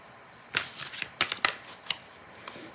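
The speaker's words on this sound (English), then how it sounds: "I'm going to pull just a couple more cards here just to get a final message" Tarot cards shuffled and pulled from the deck, a run of crisp papery riffles and flicks in uneven bursts, close and fairly quiet, with no voice.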